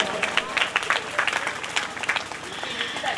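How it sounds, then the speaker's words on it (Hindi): Audience clapping at a Hindi religious storytelling event during the garland exchange of a Ram–Sita wedding scene, with sharp irregular claps rising and falling in bursts throughout amid crowd noise. "ताली बजा देना जयमाला करेगा।"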